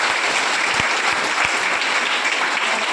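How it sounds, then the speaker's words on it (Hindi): A crowd at a village panchayat meeting claps with all five fingers, producing a loud, continuous roar of applause with a few low thumps mixed in. "इस बार ना 5 उंगली से जितना ताली बजेगा ना"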